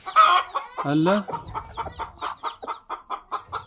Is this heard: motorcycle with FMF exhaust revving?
no